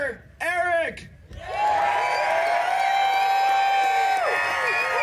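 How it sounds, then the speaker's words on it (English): Crowd cheering and applauding for a team at an off-road wrecker games event, a sustained loud mass of whoops and claps following a brief voice at the start. "when it's time to applaud for your team, let's hear it"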